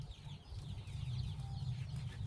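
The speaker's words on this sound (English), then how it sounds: "We finally received our birds after waiting for quite a long time." Newly delivered domestic birds cluck softly and continuously, a low murmuring flock heard close and alone with no talking.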